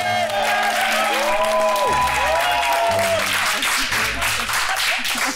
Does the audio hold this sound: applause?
yes